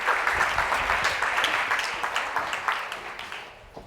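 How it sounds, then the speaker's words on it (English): Audience applause for a speaker at a tech summit in New York, sustained clapping from a crowd that holds steady and then begins to thin and fade toward the end. "Give her a round of applause."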